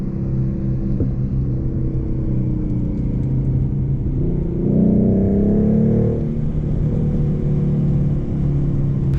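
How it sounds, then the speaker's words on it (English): A Ford Mustang's engine rumbles steadily, rising into a throaty rev midway before settling back to a low, droning idle-like growl, heard close and alone without voices. "Cars crackling and popping."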